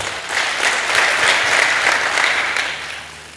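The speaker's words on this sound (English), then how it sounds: "Kindly let us clap for him." A school alumni crowd claps for a former principal, a broad sustained wave of applause that swells and then tapers off toward the end, with no voices over it.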